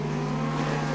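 Speedcar racing on a dirt track, with car 55 among the field: a steady, loud engine drone with strong harmonic hum, continuous and unbroken, cars running close throughout.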